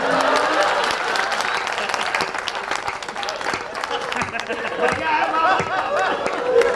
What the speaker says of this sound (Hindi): असली तालियां तो अब चाहिए